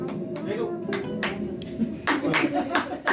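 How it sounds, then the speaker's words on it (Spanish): Scattered handclaps ring out for a birthday girl at a mariachi birthday celebration, a few sharp bursts spread across a few seconds, with people talking throughout. "el aplauso bien fuerte para nuestra cumpleañera"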